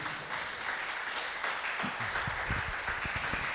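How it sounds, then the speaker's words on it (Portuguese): A church congregation applauds during a Wednesday faith service, a steady wash of clapping from many hands with scattered louder claps standing out near the end. "E aplauda o nome dEle mais uma vez"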